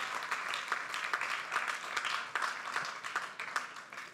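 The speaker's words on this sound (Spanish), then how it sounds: "dáselo con un aplauso" Applause from a congregation during a Spanish-language Sunday worship service, a dense steady patter of many hands clapping at moderate level for the full few seconds.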